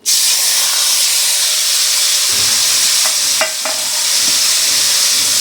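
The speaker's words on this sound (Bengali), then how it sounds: "এই বেগুন পোড়াটা এখন আমি কড়াইতে দিয়ে দিলাম" Roasted eggplant for bhorta hits a hot wok and sizzles loudly, a dense, continuous hiss with a few faint clinks of stirring partway through.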